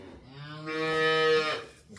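A cow in a barn gives a single long, close moo that swells and then fades in a quiet setting.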